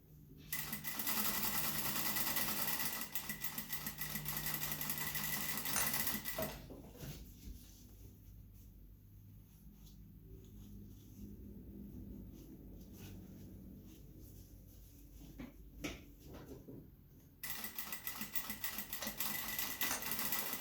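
A sewing machine stitching a procedural mask at a quarter-inch seam with backstitching, running in fast, loud bursts at the start and end, with a quieter stretch of softer mechanical clicking in between.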